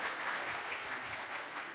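An audience at a summit held in a church applauds, a soft, even wash of clapping heard from some distance with no talking.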